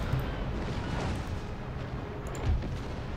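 Naval cannons firing a volley in the video game Empire Total War, a deep rumbling barrage of overlapping booms rolling continuously, with a heavier blast near the end.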